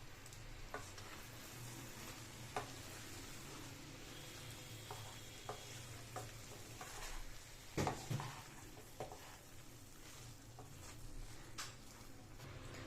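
A spoon stirs egg kheema masala in a pan, quiet scraping and soft sizzling with a few louder clinks against the pan, close and steady, no voices.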